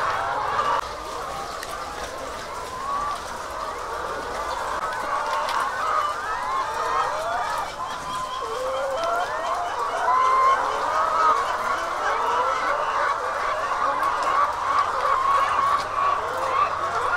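A coop full of laying hens raised to about 20 weeks old keeps up a dense, continuous chorus of clucking and warbling calls, loud and close throughout with no talk.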